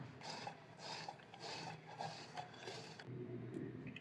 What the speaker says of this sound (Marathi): पनीर किसून झालं आहे.